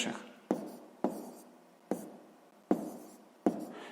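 Pen or chalk strokes writing out a sixth-grade maths solution: six sharp taps at uneven intervals, each followed by a short scratchy trail of writing, close and fairly quiet, with no talking.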